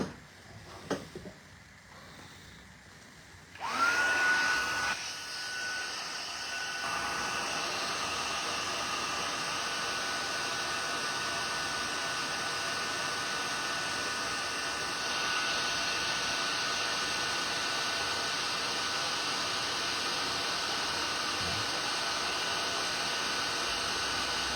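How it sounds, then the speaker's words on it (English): A heat gun blows hot air onto embossing powder from the back of the paper, a steady whooshing hiss with a faint whine that starts after a few seconds of handling clatter and then runs on at an even level. "Heating from the back makes it so none of the embossing powder will blow off since you're applying a airflow heat method"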